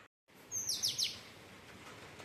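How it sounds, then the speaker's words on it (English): Oriental magpie robin singing outdoors, a few bright, clear whistled chirps in a quick burst early on, then fading into steady background ambience. "That was an oriental magpie robin"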